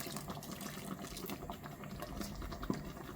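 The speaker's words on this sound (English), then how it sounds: "Add half a cup of water." Half a cup of water is poured into a simmering coconut vegetable kurma curry, giving a faint, soft splashing and bubbling that runs quietly for a few seconds with one small clink.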